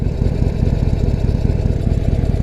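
A Harley-Davidson Forty-Eight Sportster motorcycle engine idles just above 1,000 RPM with the clutch in, giving a loud, close, steady low throbbing pulse and no talking.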